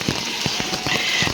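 Rain falls steadily over a village with rice paddies, a dense close hiss with faint soft thumps running underneath.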